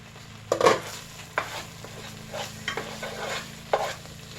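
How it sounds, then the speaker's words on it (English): A spoon stirs thick apple butter cooking down into a dark paste in a pan, a handful of scraping, clinking strokes at irregular intervals over a low bubbling simmer, close and with no voices. "periodically you do want to give it a good stir so that way it doesn't burn and stick to the bottom of the pan"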